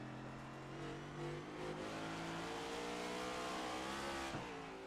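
A race car engine at Willow Springs screams loud and close, throttle easing on and off with the pitch sliding and dipping sharply near the end, sustained with no voices.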